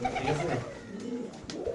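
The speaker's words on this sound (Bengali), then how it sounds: "একটা কবুতর কতটা সুন্দর হইতে পারে এটা ফিরোজের হাতে নিলে আপনি বুঝতে পারবেন না।" A pigeon gives a few soft, low, rolling coos close by in a short burst, with a little faint background noise.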